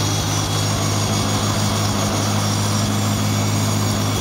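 A 1972 IH Farmall Cub tractor engine idles steadily in snowy weather, a continuous close, loud low-pitched drone with a fast, even firing pulse and no pauses.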